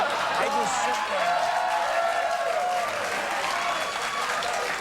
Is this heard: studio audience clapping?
yes